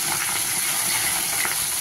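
Fish heads and fish roe fry together in hot oil in a pan, giving a loud, dense, continuous sizzling hiss without pause.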